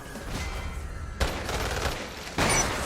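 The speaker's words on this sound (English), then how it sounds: "Shotgun, point blank." Shotgun blasts at point-blank range in a video game, two loud broadband booms about a second apart, each with a lingering rumble, and no talking.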